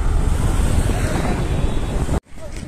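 Surf at Patenga sea beach in Chittagong, a broad continuous wash of waves mixed with wind buffeting the microphone, loud and close, breaking off suddenly near the end.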